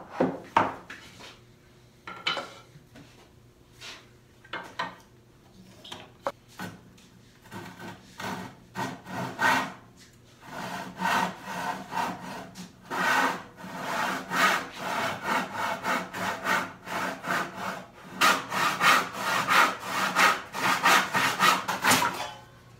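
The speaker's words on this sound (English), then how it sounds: "So I'm gonna go ahead and cut it right on the line, and trim it to length using the shooting board" Hand saw cutting a wooden drawer front to length in a hand-tool woodworking shop, with a few tentative starting strokes, then steady back-and-forth rasping strokes building in pace and loudness.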